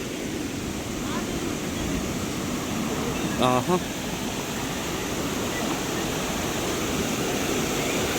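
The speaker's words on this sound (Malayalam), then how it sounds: "വെള്ളത്തിൻ്റെ ഒരു സൗണ്ട് കേൾക്കുന്നുണ്ടോ?" Rushing water at Adeppadu waterfall in North Kadambanadu, a dense steady roar like heavy surf filling the whole stretch, with a brief chirp-like sound near the middle and no clear speech.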